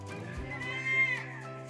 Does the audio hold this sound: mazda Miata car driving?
no